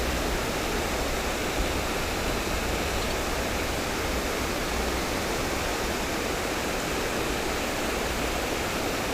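A waterfall at an urban pond, a steady, loud, broadband rush of falling water, continuous and unchanging throughout, with no voices.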